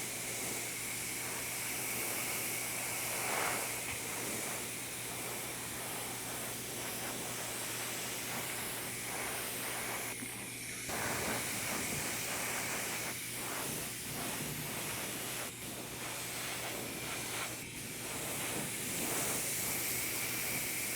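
Paint sprays lightly from an airbrush or spray can onto a primed model figure, a steady close hiss that runs continuously with small pulses and no talking.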